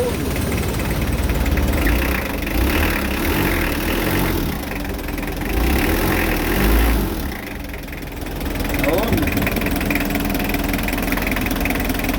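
A loud engine runs steadily with a rough, rumbling idle, close and continuous throughout, dipping slightly partway before settling back into its even drone.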